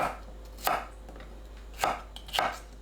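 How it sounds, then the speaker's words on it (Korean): A knife chops onion into bite-size pieces on a cutting board, with three crisp, separate chops spaced unevenly across the short stretch and near quiet in between. "양파를 한입 크기로 썰어주세요."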